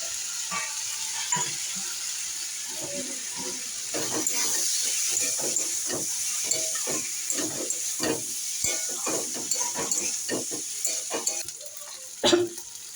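Fish roe hits a hot pan already holding bitter gourd, cumin and turmeric, setting off a steady close sizzle and hiss with repeated scraping stirs of a spatula throughout, with no voices.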